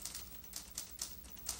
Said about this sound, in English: Here is a typewriter. Is each typewriter key a digital or an analog device?